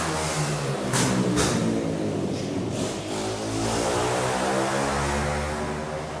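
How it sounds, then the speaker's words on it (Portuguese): A motorcycle passes outside a church service on a clear day, a loud continuous engine drone rising and holding across the whole span, with no talk over it. "tem os maus educados que passam com a moto fazendo barulho"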